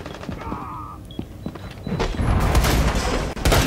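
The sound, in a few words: explosions and gunfire in the video game Rainbow Six Siege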